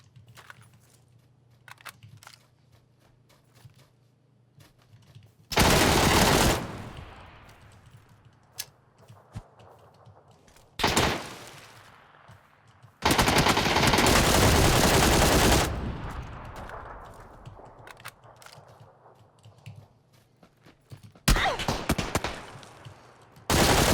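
Gunfire in PlayerUnknown's Battlegrounds, heard as several loud bursts of automatic fire, short and long, separated by quieter stretches with faint clicks and ambient game noise.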